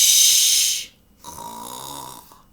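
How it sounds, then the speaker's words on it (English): A cartoon dragon princess snores loudly: one long, breathy rasping snort followed after a short pause by a softer, droning exhale, with no other voices. "The sleeping dragon princess began to snore."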